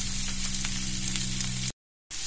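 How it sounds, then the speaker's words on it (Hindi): Chopped small onion frying in a pan toward golden brown, a steady close sizzle filling the clip with no talk, then cutting out abruptly into a brief silence before the sizzle resumes. "प्याज को हल्का सा गोल्डन ब्राउन करना जब थोड़ा सा पक जाए"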